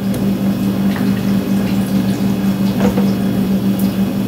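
Water trickles and drips into a pan while the sauce for lumpiang Shanghai is being mixed in a home kitchen, a close, continuous liquid sound over a steady low hum, with no talk.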